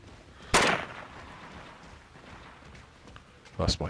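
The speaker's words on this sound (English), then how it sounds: "That's my turret gone off." An automated turret in the Deathgarden video game fires in two short, sharp bursts, one early and one near the end, separated by quiet game ambience.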